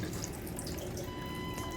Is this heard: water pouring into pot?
yes